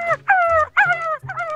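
A frightened dog whimpers in a Tintin cartoon, four short, high, whining cries in close succession, each rising and falling, loud and near with no talk over them.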